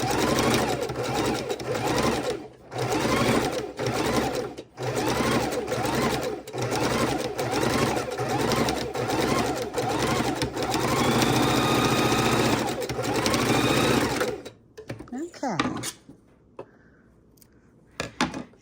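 A sewing machine stitches around a Christmas mitten in a long stretch of fast, whirring needle strokes, broken by brief stops and a slowing rhythm, before it cuts out into near quiet with soft handling noises; a voice talks quietly over it.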